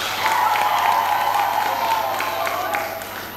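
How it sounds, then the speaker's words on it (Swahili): An audience at a Form Four graduation ceremony claps for itself, with steady, fairly close applause and crowd murmur running the whole way under a faint sustained tone. "Jipigie makofi wenyewe"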